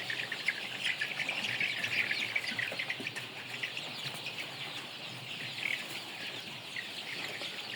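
Many small chicks cheeping and peeping together in a continuous high chorus, with a few louder chirps standing out; no talking.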